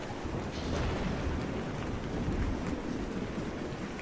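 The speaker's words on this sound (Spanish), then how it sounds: "La lluvia caía en finas cortinas sobre el tejado oxidado del crematorio" Rain pours steadily onto a rusty metal roof, a dense, continuous hiss with low rumbling texture, close and fairly loud throughout with no voices.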